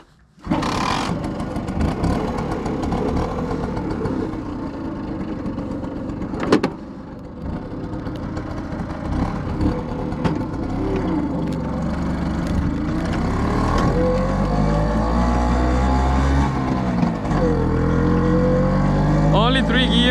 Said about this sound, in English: 50cc engine, making a very few horsepower.